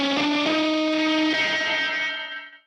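Nylon-string guitar pushed through Guitar Rig 7 effects, heavily distorted with echo and reverb: a sustained, thick chord with a few plucked note changes, loud and full, ringing out and fading over the last second.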